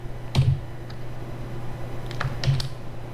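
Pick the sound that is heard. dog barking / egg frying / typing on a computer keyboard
typing on a computer keyboard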